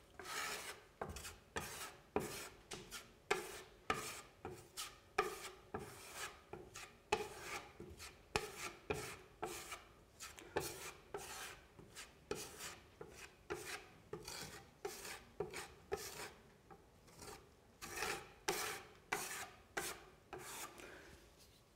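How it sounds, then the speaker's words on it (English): Polyfiller Fine Surface Filler is buttered onto wall panels with a filling knife: a steady run of close, crisp scraping strokes, dozens of rhythmic rasping swipes repeating every half second or so, with no talking. "I'm going to use our Polyfiller Fine Surface Filler, and this is actually used by just buttering the coat on."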